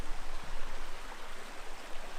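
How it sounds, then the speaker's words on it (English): A stream flowing on Dartmoor makes a steady, broad rushing sound close by. It fills the whole stretch, with gusty swells in loudness and no voices. "Hopefully you can hear the sounds of the water in the background."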